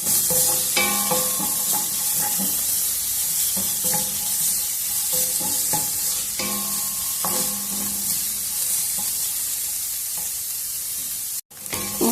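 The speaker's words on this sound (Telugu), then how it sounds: "మంటను హైలోనే ఉంచి బాగా ఇట్లా కలపండి." Vegetables for egg fried rice stir-fry in a pan over a high flame: a constant bright sizzle broken by regular scraping and tossing strokes, with no talking.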